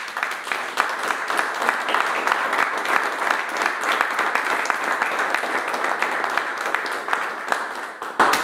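A roomful of people at an association assembly breaks into sustained applause, dense and steady for several seconds before tapering slightly at the end.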